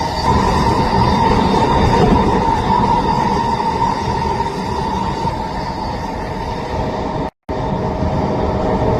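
A SkyTrain rumbles past steadily and loudly at close range, with a broad continuous roar of wheels and cars throughout and a brief dropout near the end.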